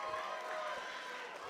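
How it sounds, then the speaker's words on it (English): Home crowd at the INZONE London Clash esports match, FNATIC vs GiantX, erupting into a sustained cheering roar, dense and even, with no single voice standing out. "It's Bosta's triple that takes the home crowd into raptures yet again."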